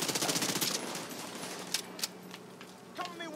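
SMG gunfire in the video game The Division 2, a burst of rapid automatic shots at the start followed by a few scattered single cracks, set against game effects and background sound.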